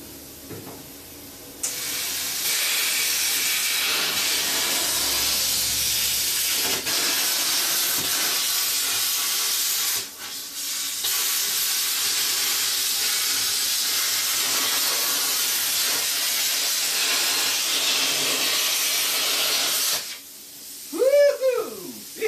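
A plasma cutter slicing through scrap metal gives a loud, steady, broadband hiss that runs almost continuously for about twenty seconds, with a few brief breaks, then stops before some short clanking and tonal squeals at the end.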